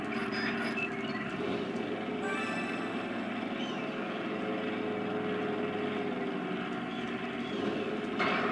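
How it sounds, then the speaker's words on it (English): Airplane engine in a flight video game over an island, a continuous droning hum with a steady broadband roar holding at an even level throughout, no talk. "Plane is invincible, so maybe that's why it's so fast"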